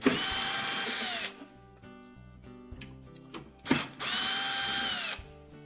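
A power drill whines in two long bursts as it backs out the screws holding hinges to a panel, with quieter clicks and rattles of handling between the runs, close and without speech.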